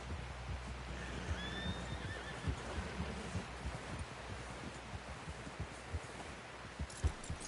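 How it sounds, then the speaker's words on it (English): Horse neighs and hoofbeats in the video game Red Dead Redemption 2: a clear whinny rises early over soft irregular clip-clop steps and rustling outdoor ambience, with no talk. "Someone help John down off this horse."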